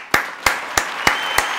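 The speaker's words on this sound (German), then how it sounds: "Applaus, dass ihr wieder eingeschaltet habt" Five single sharp claps spaced evenly about a third of a second apart, close and crisp, with a faint background hiss between them.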